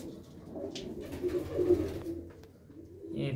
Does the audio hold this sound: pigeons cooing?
yes